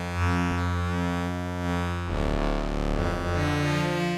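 Harsh, buzzy polyphonic chord from a Kijimi synthesizer, held steadily and loud, with the voicing shifting to a new sustained chord about halfway through; no talking.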